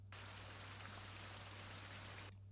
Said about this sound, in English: medium rain sound